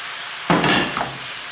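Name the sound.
onions added and stirred into ramen pot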